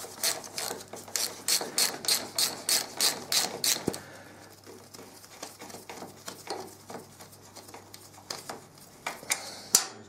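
A ratchet on a short extension turns brake bolts on a 2002 Honda VFR 800 Vtec rear brake, giving a fast run of loud, close clicks, then slower, softer scattered clicks after a brief sharp knock.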